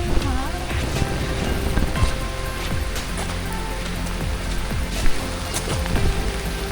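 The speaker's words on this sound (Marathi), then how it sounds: "पाऊस येतोय भारी वाटतं ना" Rain falls steadily on a forest trail leading to Kalu Waterfall, a dense close patter with scattered louder drops throughout, and no talking over it.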